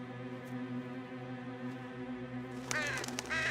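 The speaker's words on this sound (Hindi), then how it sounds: "अच्छा, एक कौवा था।" A crow caws in an animated cartoon scene on a boat deck by a quiet marsh, the harsh calls arriving as a short burst near the end over a steady tonal background hum.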